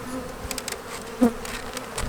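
Honey bees buzzing steadily at a bee farm, a dense insect drone close by with a brief louder bump partway through.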